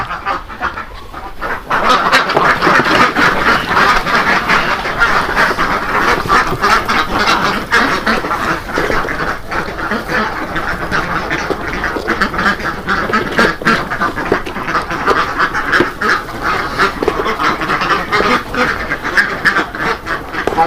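A large flock of about 400 farmed ducks quacks continuously and loudly, a dense overlapping chorus that fills the whole stretch after a brief quieter start.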